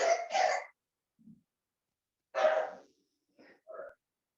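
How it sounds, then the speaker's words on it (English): A few short coughs and throat-clearing bursts in quick pairs, separated by silences, fairly quiet and a little distant. "There's some little coughs in the background."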